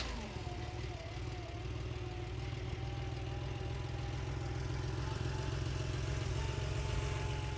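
A 1988 Porsche 911 Targa 3.2 Jubilee sits idling, its engine holding a steady, even low rumble with a faint mechanical whine on top, continuous and close for the whole stretch.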